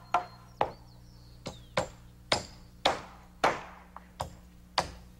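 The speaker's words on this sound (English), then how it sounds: "Joe nails his end to a ceiling joist, and the same on the other side." A hammer nails roof rafters to a ceiling joist in a series of about nine sharp, ringing strikes at an uneven pace, each blow crisp and close with a short decay.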